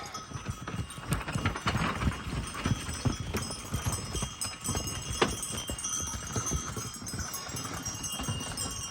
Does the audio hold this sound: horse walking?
yes